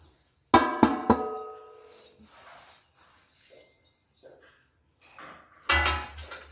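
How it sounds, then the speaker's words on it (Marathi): Motichoor laddu crumbs tipped into a pan and stirred, with a few sharp metallic knocks and scrapes, a stretch of soft shuffling and quiet, then a final burst of scraping close by. "तर आपण यामध्ये आपलं मोतीचूर लाडू बनवण्यासाठी केलेला हा चुरा टाकून घेऊया"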